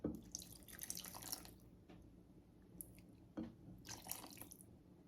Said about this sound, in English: I think I'm gonna add about half cup more of the coconut milk in there.